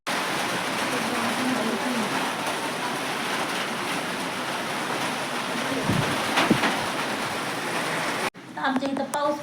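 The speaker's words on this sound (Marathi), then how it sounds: "हवा भरपूर सुटली आणि पाऊस चालू झालाय." Strong wind and rain outdoors: a dense, steady roaring rush that buffets the microphone, then cuts off abruptly near the end, when a voice speaks.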